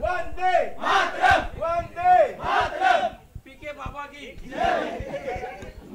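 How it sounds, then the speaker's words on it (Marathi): A crowd roars and chants in bursts of celebration at a rubber-ball cricket tournament prize ceremony, loud, close rhythmic shouts rising and falling. "हा जल्लोष आहे."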